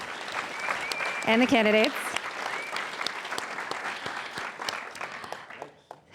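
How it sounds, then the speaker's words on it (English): An audience at a candidates' forum claps for the questioners and candidates. The applause is full and crisp, with individual hand claps standing out. A voice speaks briefly over it early on, and the clapping thins and tapers toward the end. "Please give our questioners a round of applause"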